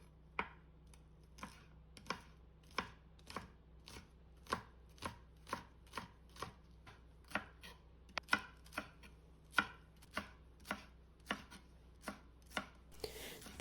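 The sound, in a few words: chopping scallions with a knife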